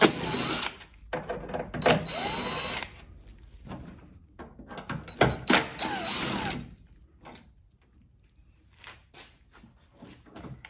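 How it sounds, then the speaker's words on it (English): T30 Torx bolts are backed out of a Toyota Tundra front door lock actuator, giving repeated close ratcheting and whirring bursts from a driver tool, separated by short pauses and faint metallic handling clicks. "Now we can remove the three T30 Torx head bolts that hold the actuator in"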